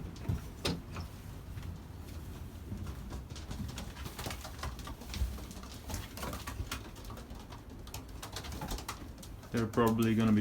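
Young racing pigeons coo softly inside a loft, low burbling calls repeating amid rustling and shuffling, with a louder sliding or clattering noise near the end.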